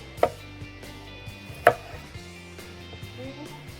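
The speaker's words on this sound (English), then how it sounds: "I'm just going to go cut it in half, and then I like to cut it in wedges, just like this." A knife cutting a tomato into wedges on a board, two sharp chops standing out among softer taps and slicing sounds, fairly close, no talking.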